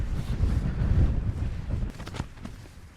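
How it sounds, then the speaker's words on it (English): Wind buffets the microphone at a wild camp in the Peak District near Seal Stones, a loud gusty rumble that drops away toward the end. "Right, it's a bit windy."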